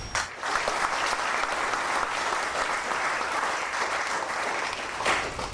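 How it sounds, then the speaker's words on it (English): A lecture audience applauds the event sponsors with steady, sustained clapping that fills the whole stretch at a fairly even level, with no speech over it. "Please give them a round of applause."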